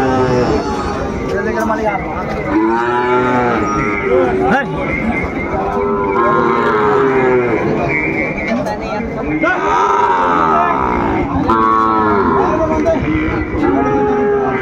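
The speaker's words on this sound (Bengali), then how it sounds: "সুন্দর একটি বাচ্চা, শাহীওয়ালের বাচ্চা" A Sahiwal breed bull calf moos repeatedly at a busy cattle market in Dinajpur, its long, drawn-out calls rising and falling close by over constant crowd chatter and other livestock.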